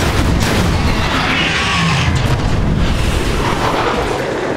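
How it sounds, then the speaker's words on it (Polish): Regeneration charges detonate in the video game Transformers: War for Cybertron, a dense run of loud, booming blasts that overlap with gunfire-like cracks and rumble continuously with no pause. "Rzucam ładunki regeneracyjne! Wystarczy być w ich pobliżu, gdy wybuchną!"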